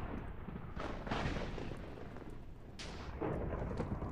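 Lightning strike and thunder in the Minecraft modpack Project Ozone 3, two heavy booming cracks several seconds apart, each rolling into a loud, broad rumble.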